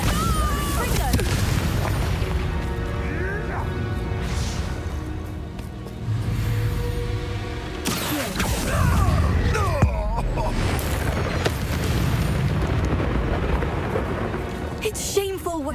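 In the Hogwarts Legacy video game, a Bombarda blasting spell erupts in heavy booming explosions and rumbling debris, with several loud blasts amid continuous battle noise and voices talking.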